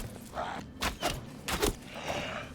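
A bow fires in quick succession in the fantasy survival game Enshrouded, giving several dull, thudding releases roughly half a second apart. The releases are moderately loud over a low background, with no voices.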